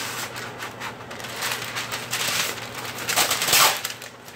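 Parchment paper being torn, a dry crackling rip that grows louder and sharper toward the end, close by.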